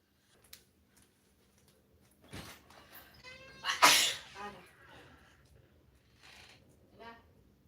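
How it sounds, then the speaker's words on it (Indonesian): A person sneezes loudly and close after eating spicy food, with softer sniffs and breathy sounds before and after in an otherwise quiet room. "Gara-gara kepedisan jadinya kok bersin ya."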